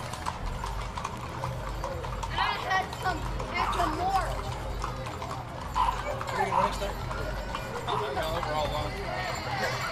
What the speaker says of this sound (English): What a very patient horse that one is.